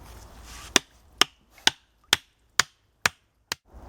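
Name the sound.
hammering stakes into a river point bar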